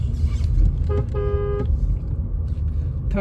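A VW/Skoda car with Active Cylinder Technology accelerates in third gear, a steady low engine drone with road noise and a short tonal whine in the middle.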